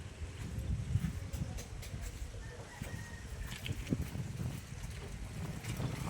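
Strong wind gusting at a seaside outrigger boat repair site, a low rumbling buffet on the microphone that swells and dips steadily, with faint bird calls in the background.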